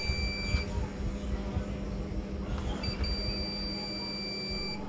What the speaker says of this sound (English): The multimeter is set to continuity mode. Beep means possible shorted.